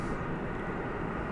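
Turkish Airlines Boeing 787-9 passing at DFW Airport at night, a steady broad roar of jet engines, fairly faint and unbroken.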